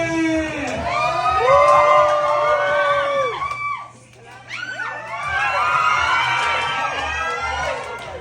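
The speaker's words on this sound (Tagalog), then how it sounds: "palapakan natin, bigyan natin ng mga sigawan ang Sporty Pesos Pro ng Muntinlupa City" An audience at a charity get-together in Muntinlupa City cheers and screams loudly for River Joseph, with high shrill whoops layered over clapping, a brief lull midway, then the shouting surges back.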